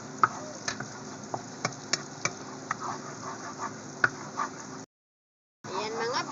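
Garlic and onion sauté in a pan with a soft steady sizzle, punctuated by light scraping clicks of a stirring utensil, close and moderate, with a brief silent gap near the end.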